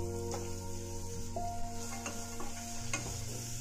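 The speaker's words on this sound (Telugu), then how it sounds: "2 మినిట్స్ ఫ్రై అవ్వాలి" Long-cut green chillies, mustard seeds, curry leaves and chopped carrot frying for an aloo curry, a continuous close sizzle with light stirring underneath and a steady hum, no speech.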